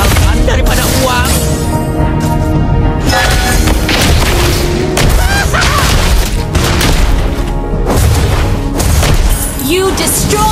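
A turret being destroyed in the mobile battle game Mobile Legends: loud, booming crashes and impacts over busy game music and effects, with bursts of voice lines throughout.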